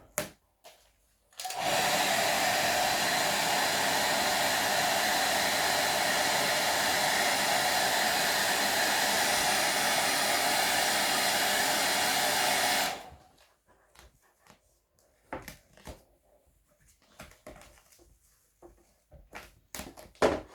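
A heat gun blows in one long steady roar for about eleven seconds while carbon vinyl wrap is warmed on a motorbike fairing, then cuts off, leaving scattered handling clicks and taps.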